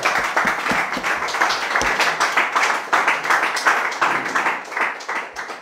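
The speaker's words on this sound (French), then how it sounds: "Acclamons pour Jésus." A church congregation claps for Jesus during a service, steady rhythmic applause from many hands, lively and sustained throughout with no talking over it.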